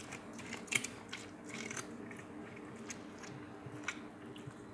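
Dog named Boss biting and chewing a Korean melon up close, soft wet crunches and squishy bites in an irregular rhythm, faint and quiet.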